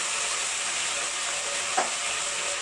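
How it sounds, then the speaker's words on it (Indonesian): Ground ginger sautés in a pan with a soft, even hiss of oil, and one brief scrape or clink of a utensil partway through; close but fairly quiet, with no talk. "Jahe halusnya kita tumis"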